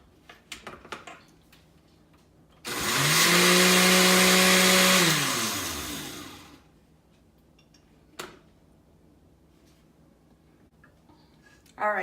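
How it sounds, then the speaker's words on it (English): A kitchen blender whirs loudly for about four seconds, mixing keto syrup with xanthan gum, then winds down, with brief clatter before and after. "we're just going to blend for a short time here"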